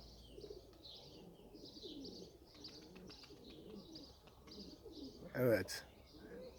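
White pigeons coo in a repeated soft rhythm with scattered chirps, and a brief burst of wing flapping comes near the end.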